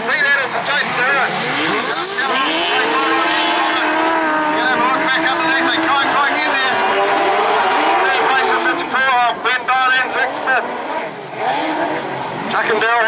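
Speedway sidecar motorcycles roar loudly around the track at Rosebank Motorcycle Speedway, engines revving and rising in pitch as they race, with a crowd or commentator voice running underneath.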